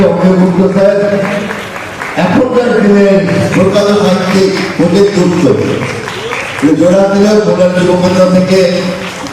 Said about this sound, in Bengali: জোরে একটা হাততালি দিয়ে তাদেরকে আরেকবার